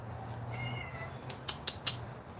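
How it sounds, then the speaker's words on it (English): A cat meows in a short drawn-out call indoors, followed by a few quick, sharper clicks or chirps over a steady low hum. "I hear you meowing."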